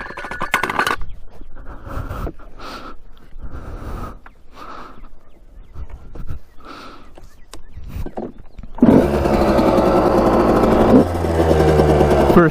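A Suzuki RM125 dirt bike sits quiet at first, with only faint scattered noises. Then its engine catches and roars into a loud, steady, close idle that carries to the end.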